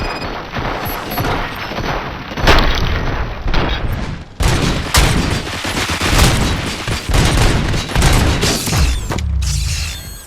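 Sustained gunfire in the shooter game Robocop: Rogue City, loud and near, with rapid bursts, heavy booms and mechanical clanks carrying on over about ten seconds with almost no pause.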